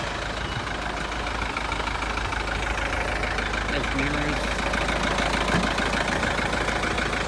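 A 2006 Mitsubishi Canter truck with a 4D34T diesel engine and about 706,000 km on it idles with a steady, continuous rumble while someone talks nearby.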